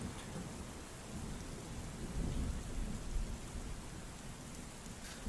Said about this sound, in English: but you hear some thunder and rain,